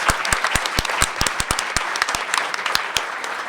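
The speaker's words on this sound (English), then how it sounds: "Can we give our panelists and our moderator a round of applause?" An audience at a social work conference on ending homelessness claps for panelists and a moderator: a brief burst of lively crowd applause with crisp, close individual claps over a dense wash.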